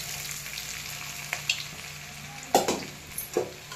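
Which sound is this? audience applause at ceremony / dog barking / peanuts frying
peanuts frying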